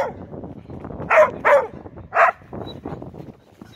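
Dog barking at a tree hollow in a forest, three sharp loud barks in quick succession amid quieter whimpering and rustling, no talk.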